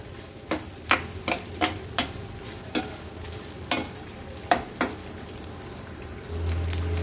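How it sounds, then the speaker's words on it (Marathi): Edible gum (dink) frying and puffing in ghee for dink ladoo, a low steady sizzle broken by a run of sharp, crackling pops at irregular intervals, quieting toward the end. "डिंक तुपामध्ये घातले ना का चांगले फुलले जातात।"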